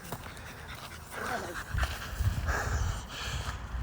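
A puppy pants close by in quick, soft breaths, with a person talking over it and some light shuffling nearby.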